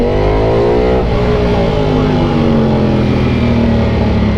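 Nearly new Ducati V4 motorcycle with under 3,000 km revving loudly up close, its engine note sweeping up and down over a dense, continuous roar.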